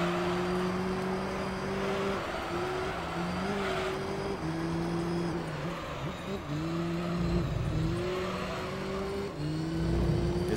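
A Chrysler PT Cruiser racing in Gran Turismo 3, its engine holding a steady buzzing drone that rises and drops with gear changes, loud and continuous, with occasional tire noise.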